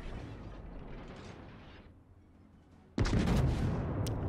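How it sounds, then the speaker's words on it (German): Battleship guns fire in World of Warships, the USS Arizona's salvo breaking in as a sudden loud, booming blast after a quieter mechanical rumble, with the roar sustained and rumbling afterward. "Schüsse sind unterwegs."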